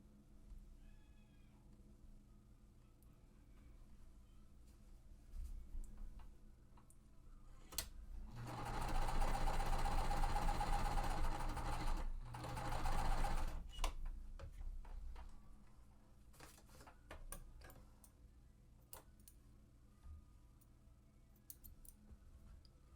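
A sewing machine stitches quilt pieces in a short steady burst of rapid mechanical whirring, close and moderately loud, stopping and restarting briefly amid quiet room sound.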